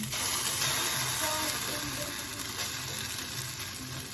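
Loud, continuous sizzling of oil in an overheated pan while pasta is being cooked, a steady crackling hiss with bubbling throughout.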